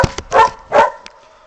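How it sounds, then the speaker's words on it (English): A dog barks in the background, several short bursts in an uneven rhythm: a couple of sharp yips followed by two fuller barks and a faint trailing yelp, fairly loud and close, with no talking. "if you can ignore the wolf barking in the background"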